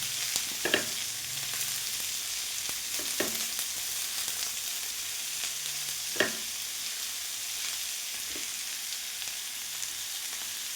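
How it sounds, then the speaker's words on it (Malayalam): Onion and small green chillies sauté in a hot pan for a banana-stem and green gram thoran, giving a steady close sizzle with a few sharp stirring scrapes spaced a few seconds apart. "രണ്ട് ചെറിയ പച്ചമുളക് ഇപ്പോൾ ചെറുതായിട്ട് കഴിഞ്ഞിട്ടുണ്ട് ഇതെല്ലാം ഒന്ന് വാട്ടിയെടുക്കണം"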